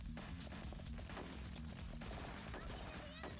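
Rapid gunfire rattles in bursts in the PSP game Ghost in the Shell: Stand Alone Complex. The shots are dense and continuous across the short span, with sharper cracks toward the end.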